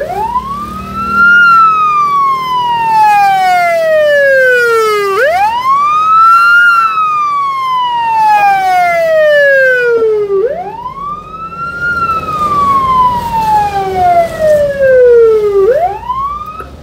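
An emergency vehicle siren wails in long rising and falling sweeps, loud and continuous, responding to a grass fire near houses on Jl Sememi Jaya, with faint road traffic beneath.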